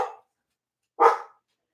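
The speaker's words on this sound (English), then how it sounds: "that's a dog" A dog gives two short, separate barks, the first clipped at the start and the second a clear, fairly close bark after a pause of silence.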